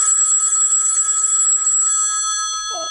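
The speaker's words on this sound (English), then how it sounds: "But alas, her phone rang just before 3 a.m." A telephone bell rings continuously with a bright metallic trill, close and clear, then fades out as the ringing stops.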